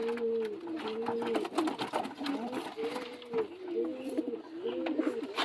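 Madras pigeons, a newly paired couple, coo in low, rolling repeated phrases close by, with soft rustling and faint background noise.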